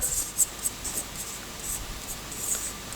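An equation is written on a board in a Class 10 maths lesson, giving a run of short, scratchy marker strokes in uneven bursts, close and fairly quiet, with no voices over them.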